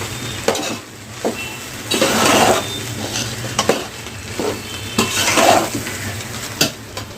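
Egg fried rice being stirred and tossed in a pan at home, with a steady sizzle broken by repeated scraping strokes of a utensil and occasional clinks against the metal, fairly close and with no talking.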